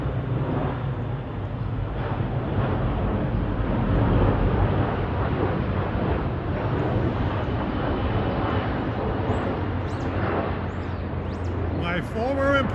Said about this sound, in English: British Airways, Flight 115 from Heathrow to JFK, 777-300 series.